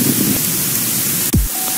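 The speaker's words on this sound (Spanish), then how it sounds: "da igual porque es ruido blanco" Synthesized white noise from FL Studio, a loud, dense, steady hiss that drops out briefly near the end with a low sweeping thump, heard alone.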